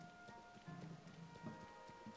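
Rain falls steadily in the video game Zelda Tears of the Kingdom, a faint, soft patter with light drops over a quiet background hum.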